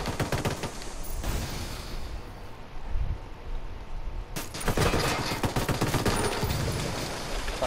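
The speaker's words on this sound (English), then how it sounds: "I get to roll a flashbang right now" Video game combat with a flashbang grenade going off amid gunfire: bursts of automatic fire and loud sharp blasts, with a sudden broadband bang near the middle followed by continued shooting.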